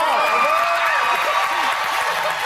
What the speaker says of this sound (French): On applaudit Alex Perron.